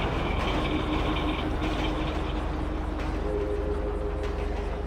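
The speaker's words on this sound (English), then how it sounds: "When the train passed, he was gone." A train passes at moderate distance, a steady rumble with faint rhythmic clacking and some tonal squeal.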